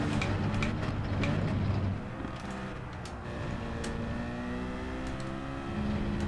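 A steady, droning Group 4 race-car engine whine with buzzing overtones in Gran Turismo 7 at Catalunya runs throughout, loud at first, then dipping slightly and holding even.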